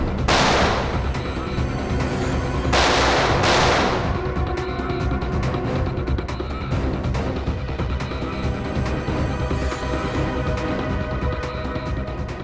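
Several sharp bursts of gunfire crack out near the start, followed by a dense stretch of scattered shots and noisy background commotion.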